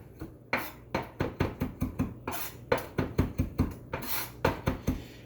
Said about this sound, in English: Give that a little chop.